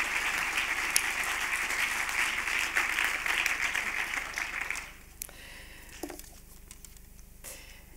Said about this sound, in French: Monsieur Beat Gloor, sous vos applaudissements.